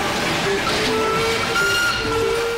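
A Darjeeling Himalayan Railway narrow-gauge train on 2-foot track rolls along with a loud, continuous rumble and hiss, with steady tonal whines from the wheels running under the noise.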